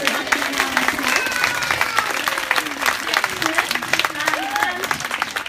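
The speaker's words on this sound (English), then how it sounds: "give him a nice big round of applause, but only as he's landing" A crowd at a bird show claps as a macaw comes in to land. The applause is loud and close and continues the whole time, with scattered voices and cheering mixed in.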